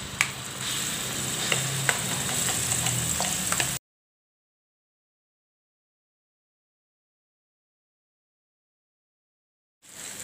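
Steady sizzling of blended spice paste frying in oil in a pan with scraping stir strokes, cutting to silence before a brief return of sizzle.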